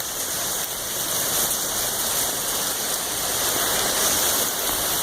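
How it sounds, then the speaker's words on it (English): Heavy thunderstorm rain pours down in a steady, dense roar that stays loud and unbroken throughout, with no voices. "Rain is like freaking a hurricane almost."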